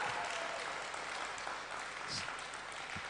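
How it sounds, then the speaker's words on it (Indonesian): Steady church congregation applause fills the whole stretch, a dense continuous patter of many hands clapping at even loudness. "Tepuk tangan yang kuat."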